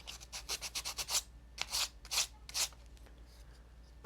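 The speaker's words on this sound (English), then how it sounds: "this is my first time actually sanding resin pieces" Resin-printed parts being sanded by hand in a series of quick rubbing strokes, rhythmic at first, then slower scrapes with pauses, close and fairly quiet.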